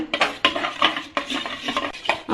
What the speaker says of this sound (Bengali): আমি দইয়ের এই বীজটা আমি একটু ফাটিয়ে নেব ভালো করে